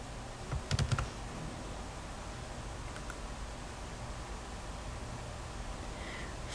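Typing on a computer keyboard with a quick cluster of key presses early on, then a couple of isolated taps, faint and close over a steady background hiss.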